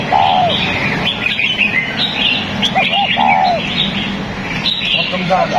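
Pet birds in a bird shop chirp and tweet continuously, with several overlapping calls and whistles close by and a few cooing notes mixed in. There is no talk.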